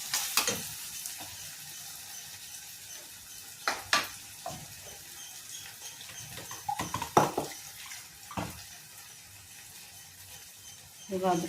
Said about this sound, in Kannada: ಮಸಾಲೆಲ್ಲ ಒಂದು ಸ್ವಲ್ಪ ಹುರಿಬೇಕು ಹಸಿ ಸ್ಮೆಲ್ಲೆಲ್ಲ ಹೋಗ್ಬೇಕದು